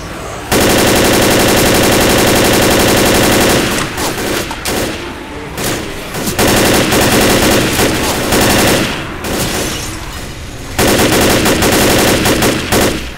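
Loud, sustained bursts of rapid automatic gunfire in Left 4 Dead on the custom map Death Aboard, firing near and close in long stretches broken by short pauses, with no talk over it.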